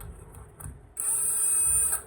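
Powered T25 driver undoing screws on a Floatwheel ADV2 electric board: faint low handling noise, then a sudden high-pitched whine that runs steadily for about one second before stopping, close by.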